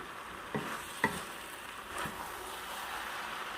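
Dry Thai suki being stirred and flipped in a frying pan, with a steady low sizzle under a few soft utensil scrapes and clicks, close and fairly quiet.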